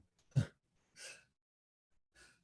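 A quiet, sharp sneeze close by, followed by two softer breathy bursts with pauses between them, and no talking.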